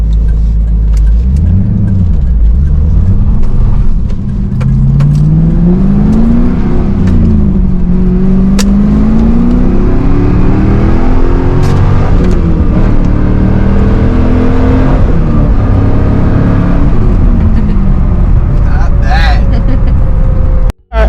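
A 2002 Pontiac Trans Am WS6 with 39,000 miles drives and accelerates, heard from inside as the engine drones and climbs repeatedly in pitch through the gears, loud and sustained, with people talking over it.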